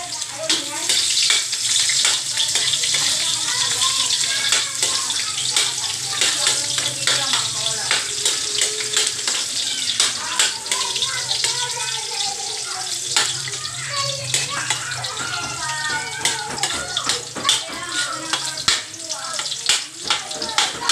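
Onions and garlic frying in a pan for adobo, a steady loud hiss and crackle running throughout with a voice speaking over it.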